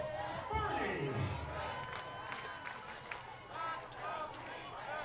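Crowd at a Kenosha Kingfish versus Rockford Rivets minor league baseball game cheers after a hit, a broad swell of distant voices and shouts under a play-by-play announcer talking throughout.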